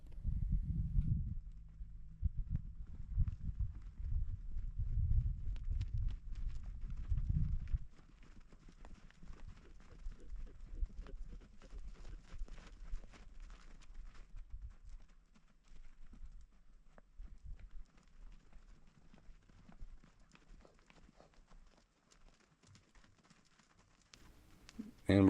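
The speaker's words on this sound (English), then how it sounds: "listen to the sounds of the horses" Wild horses walk and run near a spring: a soft, uneven patter of hooves sounds at a distance, with a louder low rumble near the start and faint outdoor background throughout.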